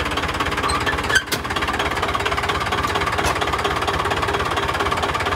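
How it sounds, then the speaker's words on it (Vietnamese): A 2011 Dongfeng Truong Giang diesel truck engine runs with the cab lifted, giving a loud, steady, rapid clattering knock with one brief thump partway through and no talking. "nâng cái đầu cabin lên cho bà con mình xem âm thanh máy móc như thế nào ha"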